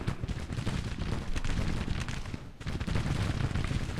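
Cavalry troops fire their guns in the Civil War strategy game Grand Tactician, a continuous distant crackle of musketry and rumbling volleys with a brief dip midway.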